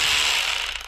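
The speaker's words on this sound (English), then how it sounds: "I'm going to use this electric wrench in place of this socket wrench." Electric wrench on a Volvo XC70, briefly whirring and ratcheting as it tightens a bolt on the front propshaft CV joint inside the transmission tunnel, a single close burst under a second long.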